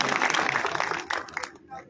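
A crowd claps together at a BJP urban farmers' conference rally, a dense burst of applause that thins out and fades within about two seconds.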